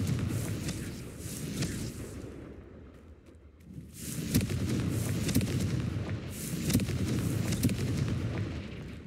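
Repeated Confringo fire-spell blasts in Hogwarts Legacy, heavy booming bursts in quick succession with a brief lull in the middle, loud and close with no talking over them.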